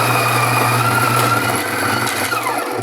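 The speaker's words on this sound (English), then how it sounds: "we can use this pulse button here on top" A HeyCafe H1 coffee grinder running on its pulse button to grind coffee beans, giving a loud, steady, high-pitched motor whine with a grainy crunching texture that continues throughout and eases slightly near the end.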